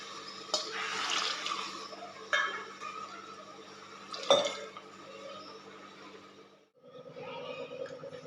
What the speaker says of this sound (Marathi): याच वाटीनं मोजून आत वाट्या पाणी घालायचं